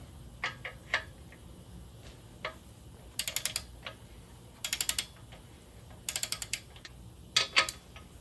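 A ratchet runs down the main bearing cap bolts on a 351 Cleveland engine during a build, with several bursts of rapid clicking in short clusters and separate single ticks in between, close and clear, with no talk.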